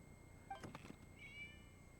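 A single faint cat meow rises briefly in Genshin Impact, soft and a little distant over a quiet hum, then a second thin mewing note trails off.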